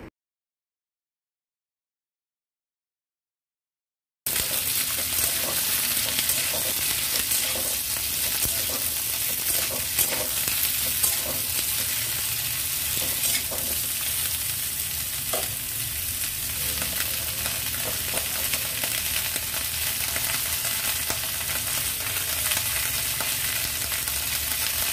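Pieces of kakrol, potato and brinjal fry with salt and turmeric in a pan, a loud, steady sizzle with frequent stirring scrapes, starting after a few seconds of silence and continuing without talk.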